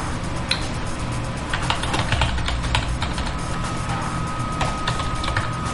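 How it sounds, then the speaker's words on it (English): Steady typing on a computer keyboard, entering text into a command prompt, with rapid close key clicks running continuously throughout and no talking. "Don't worry what I'm typing here."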